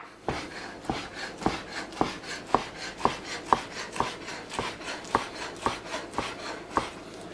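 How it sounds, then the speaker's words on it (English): A knife slices a vegetable lengthwise on a board while preparing lentil soup, about fifteen evenly spaced crisp cuts in a steady rhythm, close and moderately loud. "we're going to take this and we're going to just slice it long ways, just like that"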